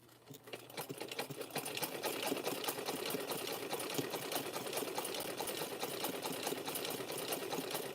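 A sewing machine stitches rope flat for a rope basket, running in a steady rapid mechanical patter, close and continuous after a short start.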